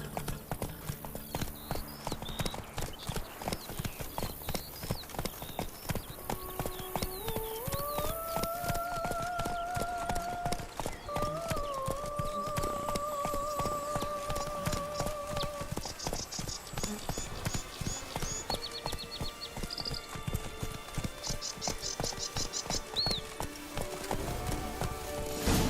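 Horse hooves clip-clopping at a steady gallop in The Witcher 3 video game, loud and continuous, with a brief whinny and game music over the rhythm.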